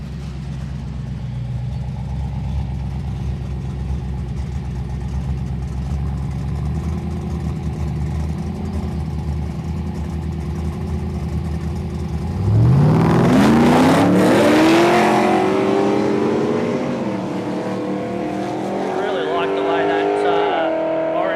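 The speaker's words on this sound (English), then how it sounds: "a couple of more cars coming in now" Drag racing cars roll in at a no-prep airstrip drag meet, engines rumbling at idle before one revs hard, pitch climbing sharply in a loud, close surge, with talk over the engine noise.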